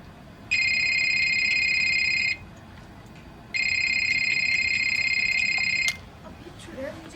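A phone rings in two long electronic bursts separated by a short pause, clear and close, with a brief quiet stretch afterward.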